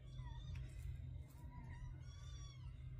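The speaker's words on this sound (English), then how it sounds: "Oh, my kitty kitties are going on me yelling like crazy." Several house cats meow and yowl repeatedly in short rising calls over a steady low hum, fairly close, with no talking.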